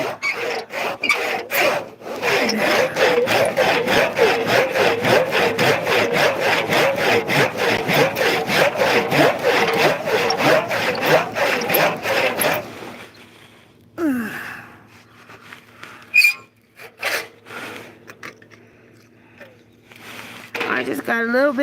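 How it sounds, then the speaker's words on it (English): A hand saw cuts through a tree branch in a front yard, fast rhythmic rasping strokes for about twelve seconds, then stops amid heavy breathing, rustling and a few scattered bumps. "So you gotta pull up while you're sawing."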